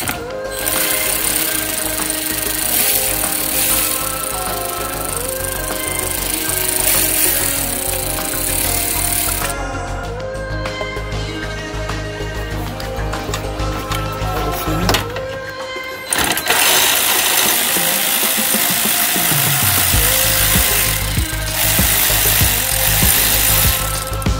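A power tool buzzes steadily up close while 10 mm bolts are removed from the front fascia of an Infiniti car, with brief pauses and ratcheting stops in between.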